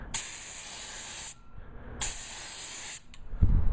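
A spray gun lays PVA release agent onto a fiberglass mold in two hissing bursts of roughly a second each, separated by a pause, followed by a short spurt and some low handling noise.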